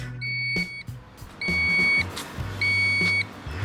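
A TVS iQube 2.2 electric scooter in reverse mode gives three repeated electronic beeps, each about half a second long with short gaps between them, loud and close over a low background hum.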